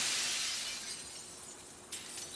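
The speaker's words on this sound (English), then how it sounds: "Go ahead and hit the glass." Glass shattering in the video game Limbo: a bright, noisy crash that decays into a hissing wash of falling shards, with a smaller second tinkle near the end, fairly soft and with no talk.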